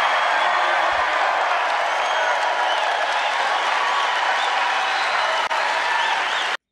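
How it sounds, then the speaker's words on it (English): A large rally crowd applauds Donald Trump, a dense, steady roar of clapping with mixed cheering that holds loud and even throughout. "You hear that? You hear that applause that line just got Donald Trump from his followers?"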